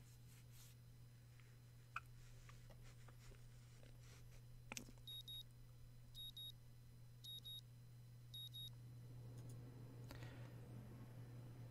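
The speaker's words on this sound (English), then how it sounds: "the sound of my alarm quickly has me up and about" A morning alarm clock in the visual novel game Katawa Shoujo gives a few short, faint, repeated electronic beeps in evenly spaced bursts over a low steady hum.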